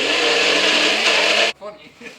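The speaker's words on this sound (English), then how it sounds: "we're going to try this NutriBlender one more again" A NutriBlender runs loudly and steadily with a dense whirring roar while blending pecan flour, then cuts off abruptly, leaving faint rustling and background sounds.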